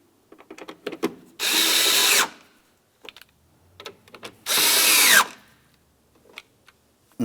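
A power drill drives two Phillips head screws into a performance tail lamp assembly on a 2000-2006 Chevrolet Tahoe, two loud sustained whirring bursts close by, separated by small clicks and handling noises.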